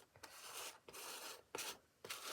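Orange paint is scraped off a surface in four rasping strokes, each a soft, close, gritty drag, with short gaps between them and no voices.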